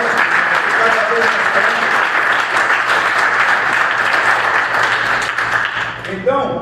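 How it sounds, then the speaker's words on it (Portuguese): A church congregation claps loudly and steadily together for the Lord during a Portuguese-language worship service, with a dense, sustained wash of applause. Voices and a musical tone carry beneath it, and the clapping thins near the end. "Então dê um aplauso ao Senhor"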